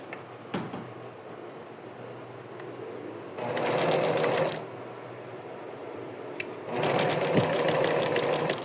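Sewing machine stitching decorative rickrack trim onto doll clothes, running in two bursts of about a second each with quiet handling and pin removal between them.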